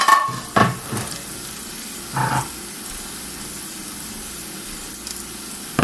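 Breakfast food, eggs and home fries, sizzles in an oversized frying pan with a steady close hiss, broken by a few brief scraping clatters of a utensil against the pan.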